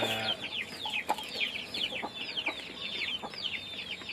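A flock of village chickens in rural northeastern Thailand keeps up a continuous, overlapping clucking nearby, with short sharp calls rising above the steady chatter throughout.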